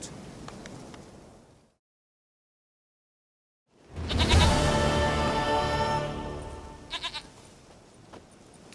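Goat bleating in The Witcher 3, a loud, close, wavering bleat that follows a short burst of rustling and a stretch of silence, with a few brief sharper bleats near the end and no voices.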